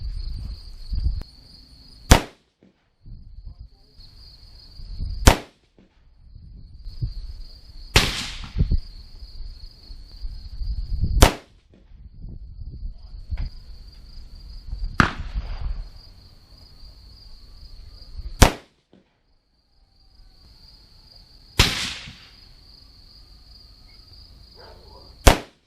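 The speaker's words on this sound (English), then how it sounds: "Let's shoot it across the chronograph, see what numbers we get, and see what the group looks down range at 100 yards" Loud, sharp 6.5 Creedmoor rifle shots fired with Reloader 15 handloads across a chronograph at a 100-yard range, about seven cracks spaced a few seconds apart, each with a brief echo, over a steady insect-like whine and light handling noise.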